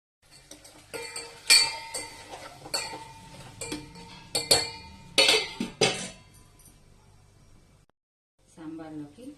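Sambar ingredients being stirred in a cooking pot, with repeated metallic clinks and scrapes of a spoon against the vessel in an irregular rhythm, fairly close, ending in a brief pause and a short burst of talk.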